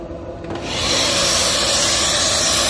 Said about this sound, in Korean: 청소기로